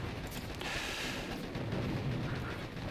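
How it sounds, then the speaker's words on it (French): Machine gun fire in a video game, heavy booming bursts that roll together into a dense, continuous rumble, loud and alone with no voices. "c'est la mitrailleuse qui m'a damé"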